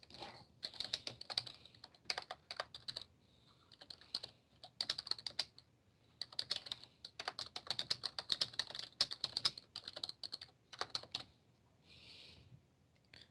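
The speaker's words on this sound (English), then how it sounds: "Let me type that down." Typing on a computer keyboard: bursts of quick, close clicking keystrokes with short pauses between runs, steady and fairly quiet, with no talking.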